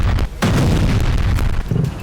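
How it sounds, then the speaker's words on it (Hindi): A drone strike explosion near Moscow: deep, heavy booms in quick succession, with a brief gap before a second rumbling blast, loud and reverberant. "दूसरे ड्रोन से जबरदस्त धमाका हुआ।"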